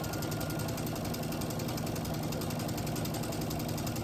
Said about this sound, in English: I'm going to stitch a 1/4 inch on this side and a 1/4 inch on that side. And I'm going to chain piece them